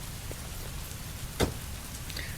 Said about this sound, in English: Heavy rain. It's been the same for weeks.